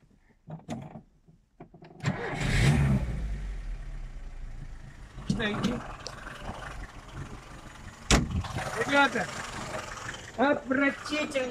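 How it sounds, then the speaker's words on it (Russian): A Lada Niva 21213 engine, newly fitted with a valve but jerking at low throttle, cranks and catches after a quiet start, then runs on with a rough, steady mechanical rumble while people talk nearby. "Ты снимай просто и запусти двигатель."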